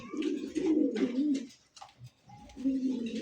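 Pigeons coo in low, throaty rolling bursts, two long stretches with a short pause between, close by and fairly loud, at a pigeon market.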